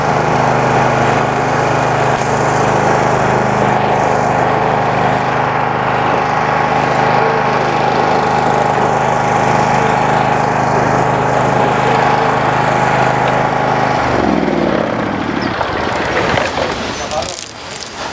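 A small John Deere LT lawn tractor engine runs steadily and loudly at close range, then its sound changes near the end as it slows or shuts off.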